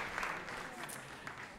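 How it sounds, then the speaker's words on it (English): Audience applause at the GAA All-Ireland Scór na nÓg finals held at Sligo IT, a faint, distant wash of clapping from a crowd that holds steady throughout. "so please give yourself a huge round of applause"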